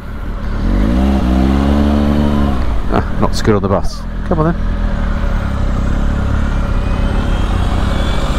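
A Triumph Speed Triple RS motorcycle rides through town, its engine loud and close with a rising rev and gear changes while the rider talks over it.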